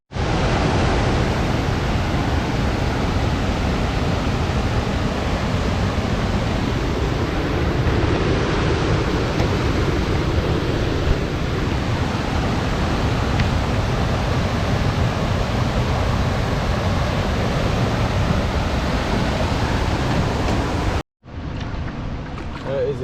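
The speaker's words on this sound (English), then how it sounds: "That is a pretty decent sized waterfall right there." Roaring waterfall at a canoe portage in Algonquin Park, a steady broadband rush of falling water that stays loud and constant, close by, before cutting out abruptly near the end.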